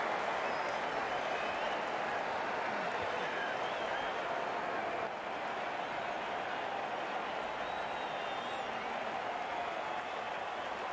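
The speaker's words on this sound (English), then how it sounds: "The crowd is on their feet, applauding a fine innings by the opening batsman" Stadium crowd applauding and cheering in the Cricket 19 video game during an India versus Australia one-day international, a steady dense wash of clapping and crowd roar sustained throughout with no pauses.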